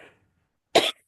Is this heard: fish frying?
no